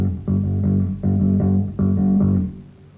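A single bass guitar repeats a short figure of one eighth note followed by two sixteenth notes, a galloping pattern played three times, close and clear with no other instruments.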